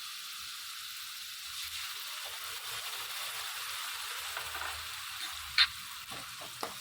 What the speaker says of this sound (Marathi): अद्रक लसणाची पेस्ट छान फ्राय करून घेऊया तेलावरती छान परतल्यानंतर यामध्ये आपण टोमॅटोची प्युरी ॲड करणार आहे